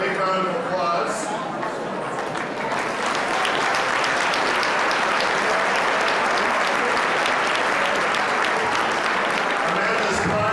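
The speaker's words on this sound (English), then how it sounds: "give her a big round of applause" Audience applause for Amanda Walsh, a pageant contestant, a loud, sustained crowd clapping that fills the whole stretch with a voice faintly underneath.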